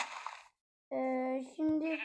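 A video-game sheep bleats twice, each call a clear, sustained tonal cry, with a short burst of background noise before a moment of silence.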